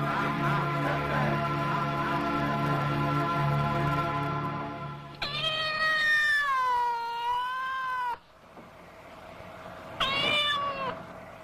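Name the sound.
black cat meowing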